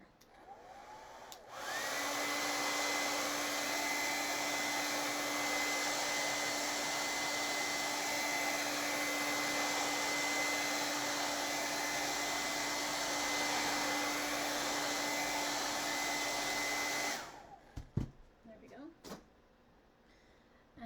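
A hair dryer roars steadily at close range for about fifteen seconds, then switches off with a few clicks and rustles.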